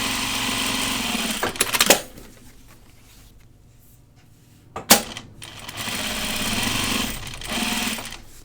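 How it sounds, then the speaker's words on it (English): A sewing machine edge-stitches backpack webbing, running loud and steady for about two seconds, then pausing. After a sharp clack, it resumes its continuous close whir. "I'm going to edge stitch it so it looks nice."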